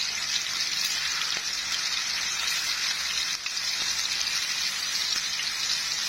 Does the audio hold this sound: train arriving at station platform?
no